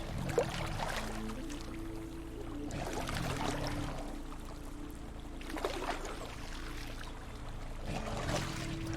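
A dinosaur drinks water in the survival game The Isle, giving a steady pouring, trickling liquid sound with soft rhythmic lapping surges, moderately loud and continuous throughout.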